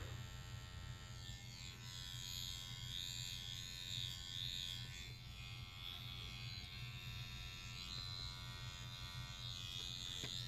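A Mast Flip rotary tattoo pen buzzes steadily on Reelskin practice skin, a faint, constant electric whine with a low hum that dips slightly as the needle is worked in long strokes.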